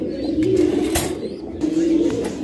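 Racing pigeons coo steadily and close by inside a loft, a continuous low, rolling murmur from several birds with no talking over it.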